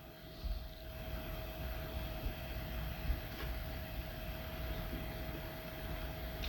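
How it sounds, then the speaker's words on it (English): A train rumbles steadily along at a distance, a low continuous roar with a faint sustained whine above it and occasional soft knocks. "And the train went along."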